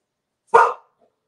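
A single sharp, loud dog bark indoors, close and isolated against silence.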